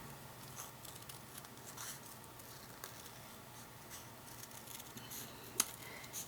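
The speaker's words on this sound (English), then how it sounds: "I'm just going to fussy cut around this" Scissors fussy cutting around a design stamped in ink on paper, quiet intermittent snips and paper rustle close by, with one sharper click near the end.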